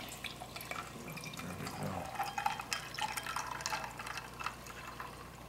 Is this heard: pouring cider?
yes